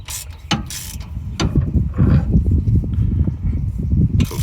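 Ratchet clicks while a transmission drain plug is tightened on a Porsche 986 Boxster, short metallic bursts in an irregular rhythm, close and fairly loud over a low rumbling background.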